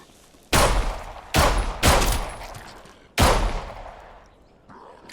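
Loud gunshots in the zombie survival game HumanitZ: four sharp, close blasts spaced irregularly, each trailing off into a long echoing decay, with a softer fifth shot at the very end.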